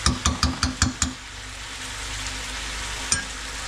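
Local rooster chicken pieces cook in a pan village style, with about six sharp rhythmic scraping stirs up front, then a low steady sizzle and one more clack near the end, no voices.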